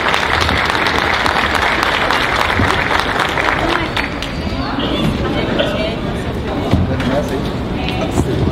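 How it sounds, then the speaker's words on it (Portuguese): Dense, sustained applause from the audience at a CSP-Conlutas workers' and popular plenary assembly, loud and steady from start to finish with a faint murmur of crowd voices underneath. "Por favor, a sala de palmas."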